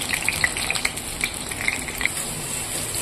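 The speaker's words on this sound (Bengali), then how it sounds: "তো পটলটা ভেজে নিলাম" Pointed gourd (potol) sizzles steadily in a pan with oil, a constant bright hiss marked by small popping crackles and a few light scrapes, close and moderately loud with no voices.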